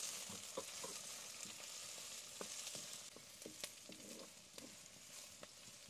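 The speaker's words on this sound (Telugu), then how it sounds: "ఇప్పుడు వీటిని మంచిగా మిక్స్ చేసుకుందాం." Carrots and beans being stirred in a pan of hot oil for paneer fried rice, a steady soft sizzle with repeated scraping and clinking strokes of the spoon at an uneven rhythm, close by with no talk.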